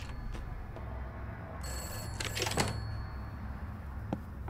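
A telephone rings inside the horror video game Summer of 58, a rattling bell burst in the middle set against a dim, droning ambience with faint clicks before and after.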